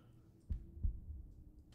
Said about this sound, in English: Is there a heartbeat? I don't like that.